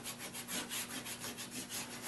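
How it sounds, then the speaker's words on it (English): A cork block rubs Fast Wax Flite fluoro wax into a ski base in rapid, even back-and-forth strokes, a close, steady swishing friction with a regular rhythm and no talking. "cork it in each time so that I get that nice light layer on there"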